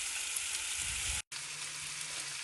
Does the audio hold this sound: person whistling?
no